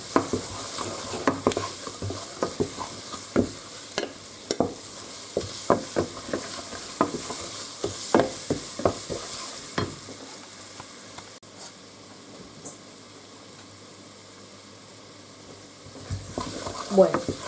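Ham pieces stirred into a flour mixture in a hot pan, repeated scraping stirs over a steady sizzle that eases toward the end, close and without talk.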